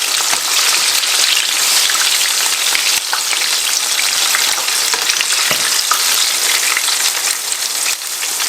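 Chicken pieces deep-frying in hot oil make a loud, close, continuous crackling sizzle that is steady like heavy rain, with no voices.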